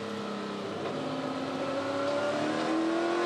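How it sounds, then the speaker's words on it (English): Onboard engine note of a Torana touring car racing at Queensland Raceway, climbing in pitch as it revs up through the gears, loud and steady with no talk. "It's the revs of this Tirana, the Matt Stone-prepared Tirana."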